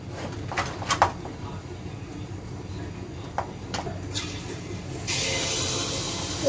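Teler pitha (pakon pitha) deep-frying in hot oil gives a steady low sizzle with scattered sharp crackles, rising into a brighter, louder hiss near the end.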